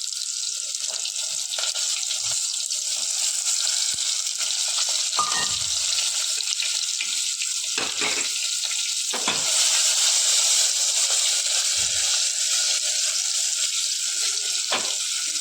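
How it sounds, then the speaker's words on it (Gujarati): Stuffed baby brinjals (ravaiya) fry in hot oil with hing inside a pressure cooker, a steady loud sizzle running throughout with a few brief clinks and knocks as the cooker is swirled; no voices. "પછી આ રવૈયા રહ્યા એ આપણે એની અંદર નાખી દઈશું."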